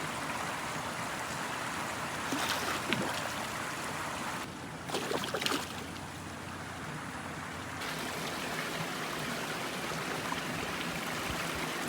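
Steady broadband rush of a small waterfall into a wildlife pond fills the whole stretch, constant and fairly close, with a few brief splashy bursts partway through.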